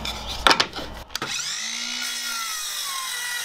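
A power saw makes a straight cut through a wood board for a marquee build, opening with a few knocks and handling sounds before a steady, close whirring cut.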